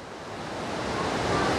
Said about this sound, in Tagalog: nandito ako ngayon sa harap ng nitong dagat, itong beach dito sa Baler